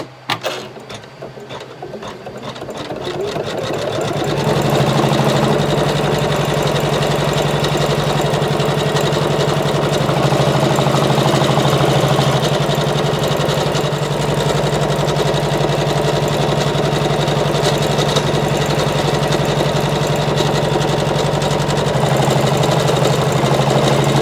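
An embroidery machine stitches a tack-down line for an in-the-hoop appliqué, starting with a few uneven stops, then settling into a fast, steady, close mechanical whirring and clatter that runs continuously without speech.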